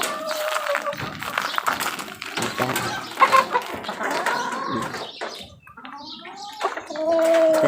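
Chickens, including a black hen, cluck and murmur nearby in a backyard flock, with irregular short calls mixed with someone talking over them.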